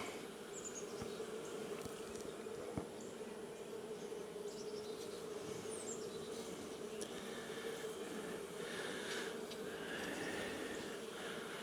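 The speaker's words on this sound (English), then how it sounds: "These bees will be fine to just kind of overwinter here" Honey bees from a swarm caught in a trap buzz in a steady, dense drone that holds for the whole stretch, fairly faint, with no one speaking.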